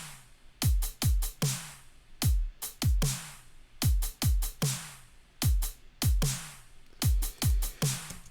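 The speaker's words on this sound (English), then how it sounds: "For example, this is my drum loop." Soloed electronic drum loop repeating in a steady pattern of punchy kicks and bright clustered hits, with sharp attacks and short decays, loud and alone without any talking.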